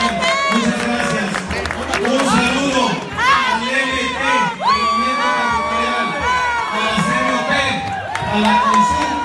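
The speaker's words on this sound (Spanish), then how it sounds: "Un aplauso para los amigos de Antocha que nos acompañan." A crowd at a political gathering in Puebla cheers and shouts loudly, with whoops and rising calls layered over a constant roar of many voices; scattered clapping is buried in the din.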